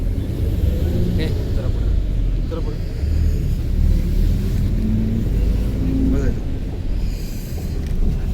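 A new Krishna Travels bus on the daily Aurad to Pune service rumbles loudly and steadily nearby with some wind buffeting, while someone talks over the engine.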